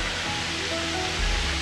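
Steady broadband roar of Lagaan Falls, a waterfall on Siquijor in the Philippines, heard as continuous rushing water at close range with no voices.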